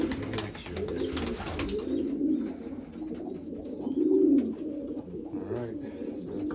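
Racing pigeons coo in low, rolling throaty calls from close by, overlapping in a steady murmur with a louder swell partway through, along with faint rustling and a brief noisy burst at the start.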